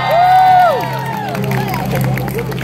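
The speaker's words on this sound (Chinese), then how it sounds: "给自己掌声鼓励鼓励" At the 2016 NCHU Lake Festival, a crowd cheers and claps after a sustained sung note fades, producing a loud, dense wash of applause and whoops.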